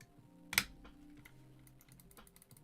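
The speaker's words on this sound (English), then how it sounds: "So there's the mouse click bumpers and triggers" A sharp click stands out near the start, followed by a string of faint, quieter clicks and ticks from custom game controller bumper and trigger buttons with mouse-click switches, against a low background hum.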